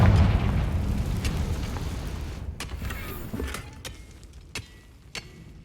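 A Confringo fire spell detonates in Hogwarts Legacy, a loud booming blast that rumbles and decays over a few seconds, followed by sharp crackling pops and debris clicks as it fades.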